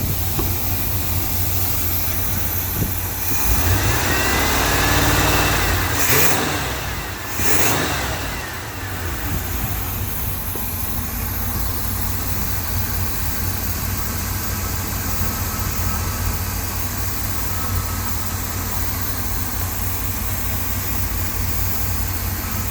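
A rebuilt 350 V8 engine in a 1985 Chevrolet C10 idles steadily and loudly with a deep, even rumble, briefly revving around the middle, then settling back into a smooth idle.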